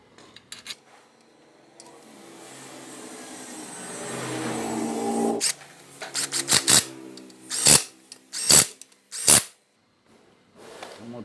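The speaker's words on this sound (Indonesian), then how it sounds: "dari Pak Toto akan memasang baut di sebelah sini terlebih dahulu" A bolt is tightened on a Toyota Innova gasoline engine during assembly, with a drawn-out rasping turn followed by a series of sharp, close clicks and knocks at irregular intervals, with no talk.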